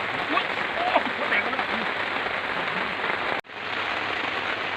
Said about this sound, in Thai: ฝนตก ไม่หยุดเลยครับ